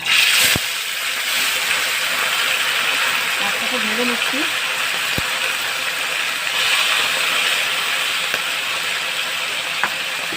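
Morola fish frying in a pan for morola chorchori, a steady broadband sizzle filling the clip, with a few brief clicks and faint tonal fragments over it.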